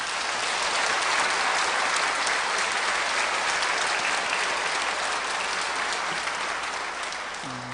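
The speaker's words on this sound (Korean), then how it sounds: "감사와 격려의 박수를 하겠습니다." A church congregation breaks into warm, sustained applause during an evening worship service, a dense even wash of clapping from many hands that holds steady before fading slightly at the end.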